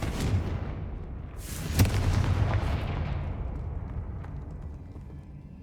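The Confringo explosive spell goes off in Hogwarts Legacy with one sharp blast, then a rumbling crackle that trails away over several seconds. Softer game effects sit underneath, and no one speaks.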